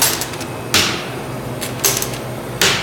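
A thermal conductivity test unit is shut with its silicone pads left inside. Three sharp clacks of the lid and latches come at uneven intervals over quiet rattling and handling noise.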